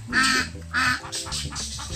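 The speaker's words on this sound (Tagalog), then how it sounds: "Pato at bibi?" Ducks quacking in a farmyard among other fowl, several loud nasal calls in quick bursts close by, with a steady low rumble underneath.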